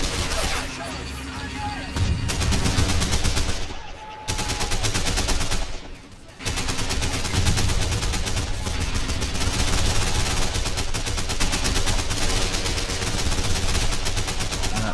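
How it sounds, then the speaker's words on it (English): Tiger tank machine guns firing in the video game Men of War, dense continuous bursts of automatic gunfire with booming battle noise, loud and sustained with brief lulls. "Tiger's MGs are just suppressing every guy who comes through that doorway."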